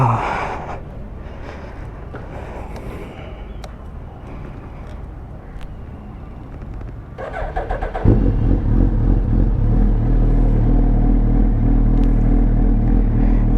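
Superbike engine fitted with an Akrapovic titanium exhaust and full titanium headers, idling with a steady low rumble, then jumping to a louder, fuller and deeper running note from about eight seconds on, close and continuous with no talk.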